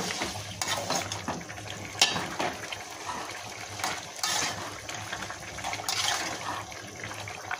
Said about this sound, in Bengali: এখন একটু ভালোভাবে এই যে উল্টিয়ে পাল্টিয়ে মিশিয়ে দিতে হবে।